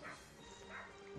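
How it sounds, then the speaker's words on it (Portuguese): A dog in an abandoned hotel gives a couple of quick yips and barks, heard faintly at a distance inside a noisy, echoing space. "O cachorro ali."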